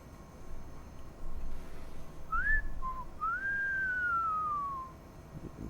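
A character whistles in Cyberpunk 2077: a short rising two-note whistle followed by a long, clear gliding note that slowly falls, heard alone over a soft game ambience.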